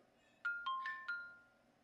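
A mobile phone ringtone goes off during a mock courtroom trial held over Zoom: four short, bright chiming tones in quick succession, fairly loud and close, with no talking over them.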